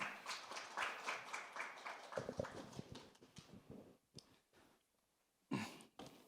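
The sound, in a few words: audience applause welcoming a teacher's presentation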